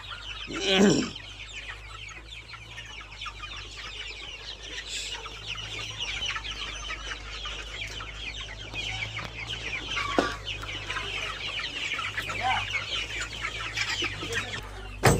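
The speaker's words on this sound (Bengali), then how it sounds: "এটা হলো আমাদের আরেকটা মুরগি, এটা 1 মাস পরে ডিম পারবে" Desi chickens clucking as they feed: a near, continuous bed of soft farmyard clucking, with a few louder, sharper calls rising out of it at scattered moments.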